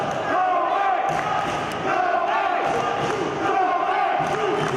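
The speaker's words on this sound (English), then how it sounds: "You can hear the crowd chanting for Kobain" A pro wrestling crowd chants rhythmically for a wrestler during a match, repeated loud crowd voices in a steady cadence filling the arena throughout.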